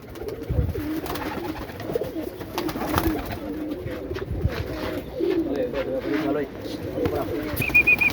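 A large flock of roughly 150 pet pigeons coos steadily in a loft, soft overlapping calls running throughout with a bright chirp near the end.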